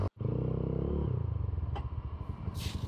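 A motorcycle, called powerful enough for hill roads, climbs the road from the Baghaihat army camp to Sajek Valley, its engine throbbing loud and close with a steady pulsing rhythm and a brief clatter near the end.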